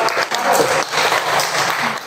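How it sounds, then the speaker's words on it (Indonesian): A classroom of students applauds a group that has just finished its presentation, giving a dense, loud burst of clapping that holds steady for about two seconds, with a faint voice underneath. "Tepuk tangan dulu untuk kelompok"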